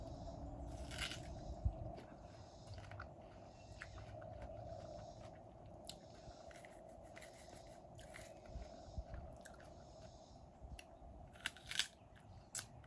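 Crunchy fruit bitten and chewed up close, faint repeated crisp crunches and wet chewing in an irregular rhythm over a low steady background hum.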